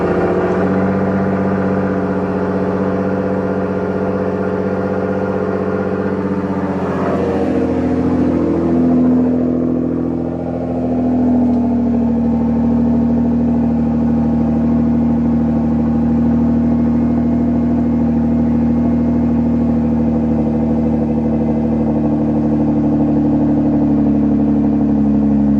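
A Nissan GT-R engine cold start: the motor fires and settles into a loud, steady high idle with a continuous droning hum. It stays close and alone throughout.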